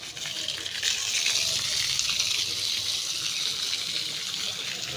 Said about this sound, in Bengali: জল দিয়ে দিলাম, এবার নরম হয়ে যাবে